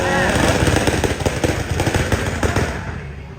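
Kawasaki KRR two-stroke triple motorcycle at a night drag race in Thailand, its engine rattling and popping loudly and continuously, with rough staccato bursts over crowd noise.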